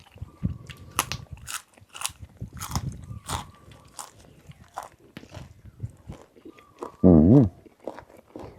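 Crunchy food is chewed up close, eaten with a Mon-style radish and pork belly curry alongside water mimosa. Repeated crisp bites and crunches come in bursts, and a short louder noise sounds near the end.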